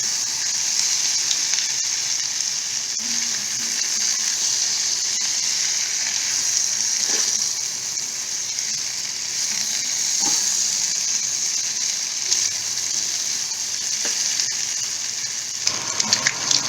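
Prawns fry in a hot pan with a steady, bright sizzle that holds for the whole stretch, broken by a few faint stirring clicks.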